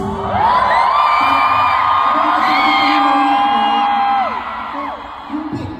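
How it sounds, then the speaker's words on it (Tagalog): Fans scream and cheer at a concert, a loud crowd roar with rising and falling whoops sustained for about four seconds before easing off slightly. "Kasi ang lakas ng hiyawan ng mga blooms."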